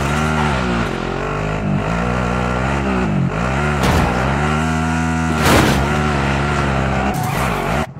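A vehicle races through a Call of Duty Warzone match, its engine revving up and down loudly with shifting pitch, tires squealing and occasional bursts of impact noise over the continuous motor roar.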